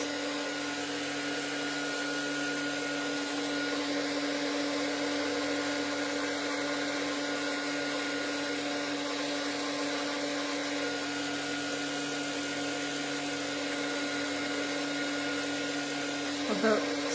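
A hair dryer blows on a watercolor painting indoors, giving a steady, continuous whirring hum at moderate loudness for the whole stretch, with a brief faint knock near the end.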